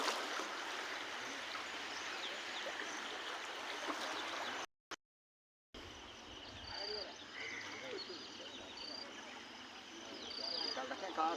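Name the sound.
floodwater flowing past a bridge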